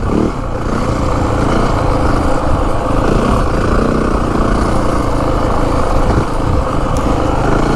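A 2025 Yamaha WR450F dirt bike running in fourth gear at about 25 mph, a loud, steady engine drone with dense low rumble held evenly throughout, no talk.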